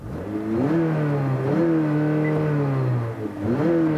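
A 2019 Acura ILX A-Spec's 2.4-liter direct-injection four-cylinder VTEC engine, naturally aspirated, revs loudly and close up in repeated climbs, each rising and falling in pitch over a steady hum.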